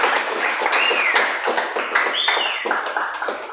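Lively audience applause greeting a speaker before a public lecture on asteroids and comets, dense continuous clapping from a roomful of people, loud and close throughout.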